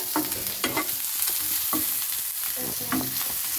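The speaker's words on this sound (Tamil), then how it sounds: "ப்ரௌனிஷாக ஆகிற வரைக்கும் நல்லா வதக்கிட்டே இருக்கும் ஃப்ரெண்ட்ஸ்." Onions sautéing in a pan for momo filling give off a steady sizzle, broken by rhythmic scraping stirs every half second or so, close and moderately loud with no talk.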